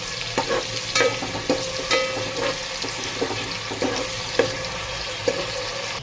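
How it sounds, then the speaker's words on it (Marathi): Finely chopped onion sautéing in a hot pan while being stirred, a steady close sizzle broken by repeated scraping strokes of the spoon, with no talking. "असा बारीक केला की पटकन भाजला जातो हा छान असा मी दोन ते तीन मिनटं परतून घेणार आहे"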